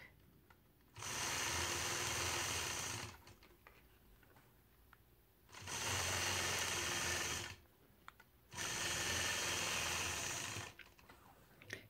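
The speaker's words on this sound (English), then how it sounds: "I'm going to use the largest curve and stitch point to point curves" A sewing machine quilts point-to-point curves across a variegated quilt block in three loud bursts of fast, even stitching, each lasting two to three seconds and separated by quiet pauses with faint clicks.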